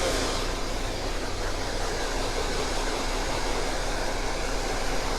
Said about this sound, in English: And this is my new Arrojo dryer.